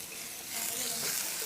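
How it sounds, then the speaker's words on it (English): Garlic frying in a hot wok for Korean wok noodles, a steady close sizzle that swells slightly louder partway through. "Put the garlic in. Put your mushroom,"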